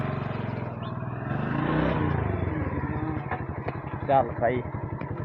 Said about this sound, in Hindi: गाड़ी स्टार्ट करते